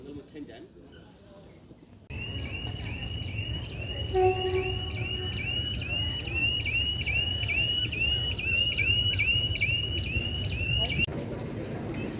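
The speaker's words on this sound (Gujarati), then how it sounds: "આ ટ્રેન આપણે જવાની છે અહીંથી વેરાવળ" A meter gauge train bound for Veraval rumbles low and steady through a forest setting, its deep drone continuous beneath a loud, regular chirping of crickets.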